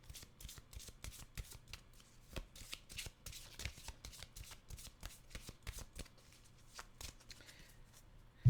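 A deck of playing cards is shuffled repeatedly for a card reading, giving quick riffling bursts of crisp papery flutters and taps, close and moderately quiet, with no talking.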